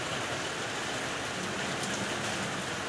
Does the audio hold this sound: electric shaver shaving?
no